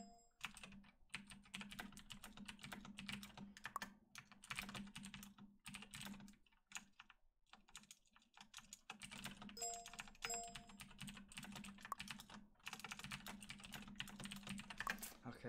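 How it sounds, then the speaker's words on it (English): Fast, steady clatter of keys on a computer keyboard during a Fortnite gaming session, with brief pauses between bursts of typing, faint and close over a low background hum, no voices. "I was typing a message."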